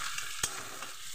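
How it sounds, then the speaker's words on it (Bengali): Chopped onion fries in hot oil, making a soft, continuous sizzle with one sharp stir or clatter partway through. No one speaks. "পেঁয়াজটা আমি একটু ভেজে নেব।"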